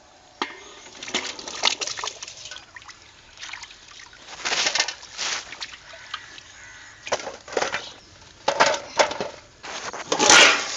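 Fruits such as apples and dragon fruit being washed under running water, with intermittent splashing and trickling bursts as the fruit is handled, fairly close and moderately quiet.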